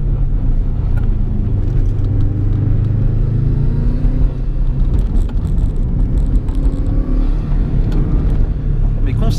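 A turbocharged car engine accelerates with a steady, loud, low rumble and rising drone heard from inside the car, with a person talking over it.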